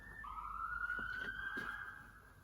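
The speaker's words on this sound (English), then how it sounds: "Honestly, I can't deal with the amount of sirens today." Police siren wailing outside, a single rising and falling tone sweeping steadily, fairly faint and distant through a quiet room.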